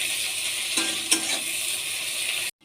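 Onions fry in a pan for a masoor dal curry, a bright steady sizzle close up with a couple of small stirring knocks, cutting off abruptly near the end.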